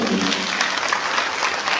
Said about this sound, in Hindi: अरे वाह, तालियां बजा दिया